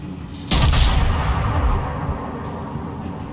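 A torpedo strikes a ship in World of Warships, the attacker being the battleship HMS Bellerophon: a sudden loud, deep boom that rumbles and slowly fades over a few seconds, with no talking.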